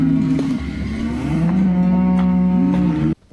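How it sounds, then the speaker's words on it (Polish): Cows moo loudly and close by at a campsite in Australia, with several long, drawn-out lowing calls overlapping one after another before an abrupt cutoff. "Słyszycie te krowy?"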